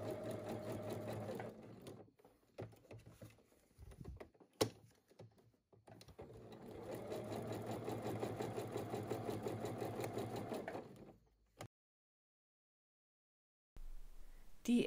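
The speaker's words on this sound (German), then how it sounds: "an dieser Stelle näht man jetzt ja auf jeden Fall links von der Naht" A sewing machine runs in long bursts while stitching a small fabric bag, its steady motor hum and needle rattle pausing briefly between runs before falling silent and then restarting.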